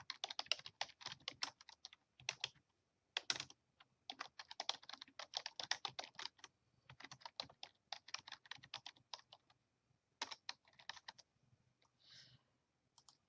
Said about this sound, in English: I can go ahead and type in a title